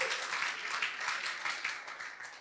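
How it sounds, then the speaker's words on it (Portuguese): A church congregation applauds during a sermon, a soft, even patter of many hands heard faintly and at a distance, swelling slightly and then fading over a couple of seconds. "Aplauda bem alto mesmo"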